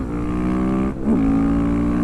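A single-cylinder supermoto motorcycle engine revs up close and loud, holding a steady drone, dipping briefly, then climbing again to a higher sustained pitch.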